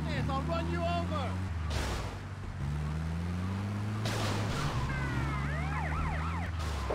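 An ambulance siren in GTA Vice City wails continuously with rising and falling tones, loud and near, layered over a low engine rumble and brief crashing noises.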